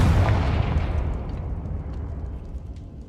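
A Confringo spell blast in the game Hogwarts Legacy: a single heavy booming explosion that hits at once and then rumbles and fades away over a few seconds.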